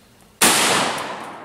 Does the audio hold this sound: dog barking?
no